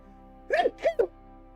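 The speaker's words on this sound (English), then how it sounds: "I just sneeze." A single person sneezes once, a quick double-burst sneeze, close and fairly loud in a quiet room.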